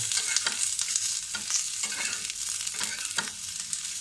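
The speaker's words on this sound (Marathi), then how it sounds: "ते पण त्याच्यावर आपल्याला भाजून घ्यायचं आहे, कारण मग त्याच्या कांद्याबरोबर त्या आल्या लसणाचा कच्चेपणा निघून जातो." Chopped onion with ginger and garlic roasting in a hot pan, a dense crackling sizzle broken by several quick scraping strokes of a spatula, close and fairly loud.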